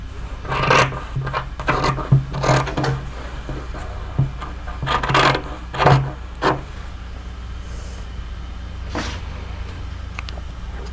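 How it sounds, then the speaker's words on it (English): Scissors trim through the layers of a velvet mask, producing a run of soft, close snipping and rubbing cuts in irregular bursts, then fading to quiet fabric handling toward the end. "Trimming, trimming, trimming, trimming all the layers of the mask."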